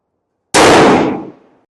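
A single loud rifle shot fired during a powder load test with a new barrel, a sharp close blast that rings out and decays over about a second, with no talk.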